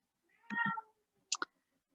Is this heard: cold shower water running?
no